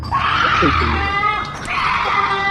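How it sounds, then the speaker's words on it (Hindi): A shrill, wavering scream in a horror cartoon rises and falls, loud and close, with a brief dip before it resumes. "किसी की चीखने की आवाज आ रही है।"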